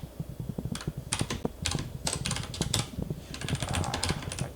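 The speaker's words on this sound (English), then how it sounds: "My typing today is bad." Rapid bursts of typing on a computer keyboard, clustered key clicks coming in uneven runs at close range with a faint steady hum underneath and no talking.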